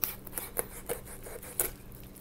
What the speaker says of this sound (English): Then you're going to go over the backbone.